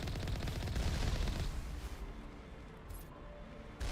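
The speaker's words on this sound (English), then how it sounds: "God, it's like missile turrets." Missile turrets firing in a video game: a dense, loud barrage of rapid booming shots for about a second and a half, then fading to a lower, rumbling background with scattered pops.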